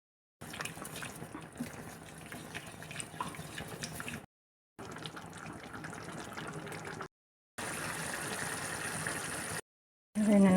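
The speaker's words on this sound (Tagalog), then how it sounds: "dagdagan natin ng konting tubig." Water is poured into a pasta sauce of tomato, tomato paste, garlic powder, baharat, salt and a little sugar, in three splashing, trickling bursts separated by short silences.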